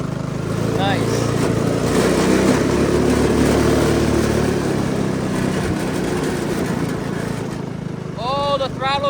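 A small engine runs after a carburetor rebuild, its throttle tending to stick open. It gives a loud, steady, close running drone, and people talk briefly near the end.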